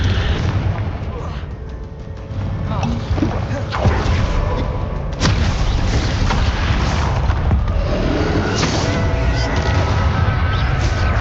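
Heavy, dense blasts from the Confringo fire-blasting spell in Hogwarts Legacy boom repeatedly through continuous combat noise, loud and close, with sharp cracks near the middle and clashing effects throughout.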